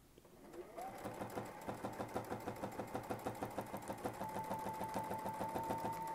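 Sewing machine stitching a shape on a quilt sandwich guided by a Westalee sampler ruler, a quiet motor that spins up and settles into a fast, even, repetitive stitching rhythm, no voices.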